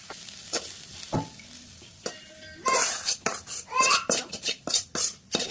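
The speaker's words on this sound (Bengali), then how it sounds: "এই তো ভাজিগুলো আমি ঢেলে নিলাম" Potato fry with onion being stirred and scooped out of a wok, the spoon scraping and clinking against the metal in quick irregular strokes over a faint sizzle.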